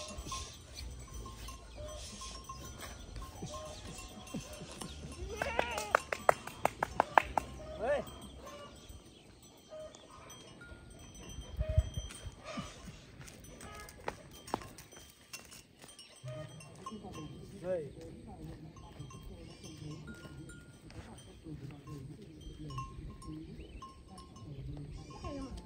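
Goats and water buffalo wearing bells are driven up a hillside, their bells clinking in scattered bursts among occasional bleats and rustling, while people talk throughout.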